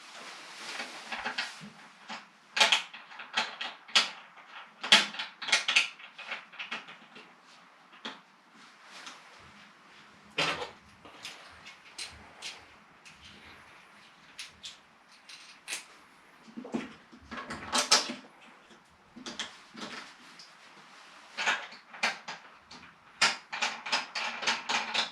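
Glacier Bay 635675 toilet seat being closed, not a soft-close type: scattered creaks, knocks and clacks of the plastic seat and lid, spread out and irregular, moderately close.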